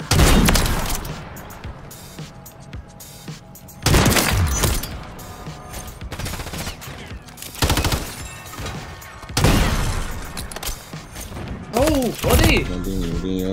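Rapid gunfire bursts from Call of Duty MW3 weapons during trickshotting play, loud and close, with heavy impacts and booms and players shouting excitedly over the shots.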